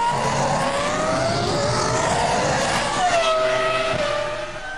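Formula 1 race cars scream past at the Austrian Grand Prix, high engine whines rising and falling with Doppler sweeps as several cars go by at speed, loud and continuous.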